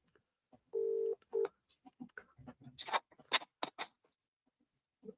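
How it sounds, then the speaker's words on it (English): A telephone call being placed: a short burst of keypad dialing tones, then a steady tone followed by a series of short ringback beeps, fairly close and clear, with a few quiet noises between them and no talking. "Let's see if he answers the phone."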